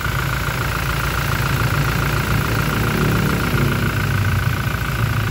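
Close and fairly loud, a 2021 Toyota Hilux 4x4's 2GD 2400cc turbo diesel idles with a constant low, even rumble and a faint turbo whine, alone with no talk.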